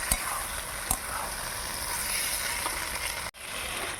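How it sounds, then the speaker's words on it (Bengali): Fried potatoes and egg-fried soybean chunks being stir-fried in a pan, with a steady close sizzle and a few sharp utensil scrapes and clicks against the pan. "এবার দিয়ে দিচ্ছি ভেজে রাখা আলুগুলো, দিয়ে দিচ্ছি ভেজে রাখা সোয়াবিন, ডিম দিয়ে ভেজে রাখা সোয়াবিন। এবার ভালো করে কষে নেব।"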